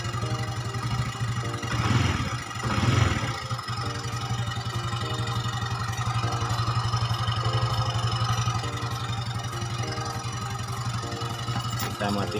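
A Yamaha Xeon RC scooter fitted with a new V-belt and rollers runs with a steady, rough, clattering engine note, with two brief rev swells early on before it settles back to a constant idle-like drone.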